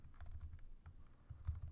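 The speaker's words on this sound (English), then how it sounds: "But I'm just typing it." Quick, irregular bursts of key clicks from typing on a computer keyboard, close and quiet, with short pauses between runs of keystrokes.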